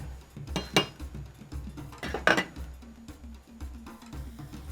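Pieces of seitan being stirred and pressed down in a large cooking pot, with scattered metallic scrapes and clanks, two louder knocks standing out against a low steady hum.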